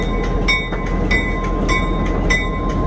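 A train rumbles past in the mountain town of Jim Thorpe, Pennsylvania, with steady rhythmic clatter from the wheels and a continuous low roar, loud and close.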